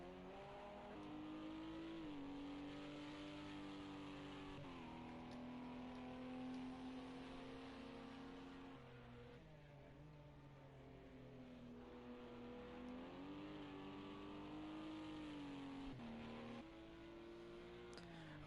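Several LMP2 prototype race cars in the Project Cars 2 racing game, engines droning loudly and continuously with rising and falling pitch as they accelerate and shift, no talking.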